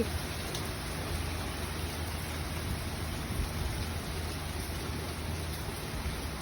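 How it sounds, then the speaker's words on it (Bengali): Steady, heavy rainfall during a storm pours down in a dense, unbroken hiss, with no voices and no distinct thunderclaps. "অনেক বৃষ্টি ঝড় তুফান হচ্ছে"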